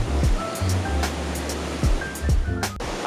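Waterfall on the Biltmore Estate grounds: a steady, loud rush of falling water fills the whole scene with broadband roar, broken by a few brief knocks and scrapes close by.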